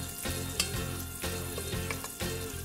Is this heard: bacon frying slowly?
yes